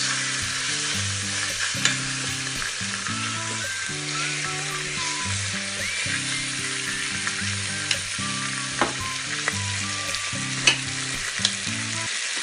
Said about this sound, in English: Sear the other side.